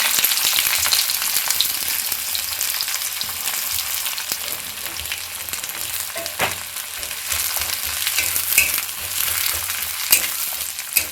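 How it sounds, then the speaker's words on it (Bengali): Chopped onions fry in mustard oil with black cumin seeds in a kadai, a loud, dense, continuous sizzle up close with occasional stirring clatter, heard alone without talk. "পেঁয়াজটা হালকা একটু ভেজে নেবো"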